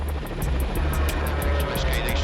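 A steady rhythmic rotor chop from a Metropolitan Police helicopter overhead in Croydon, continuous and fairly loud, with a low engine drone underneath.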